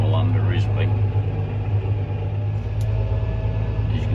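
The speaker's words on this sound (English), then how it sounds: "sugar beet harvester" A four-wheeled sugar beet harvester's engine rumbles steadily at close range on a farm, a deep continuous drone with faint higher squeaks over it.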